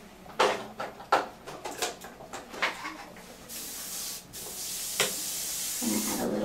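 Paint hisses from a spray can or airbrush through a tattoo stencil in short bursts, then longer sustained sprays, close and fairly loud with no talking.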